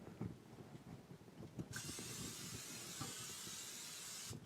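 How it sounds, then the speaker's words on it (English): Cooking oil spray mists onto an air fryer basket in one steady, close hiss of about three seconds, rising abruptly and cutting off sharply, over faint kitchen clatter with no talking. "I forgot to spray my basket."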